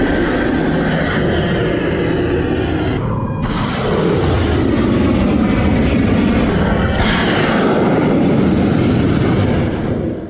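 F-35C and F-18 fighter jets roar loudly and steadily during strike footage, a powerful broadband jet rumble that swells and dips briefly mid-way, with no talk.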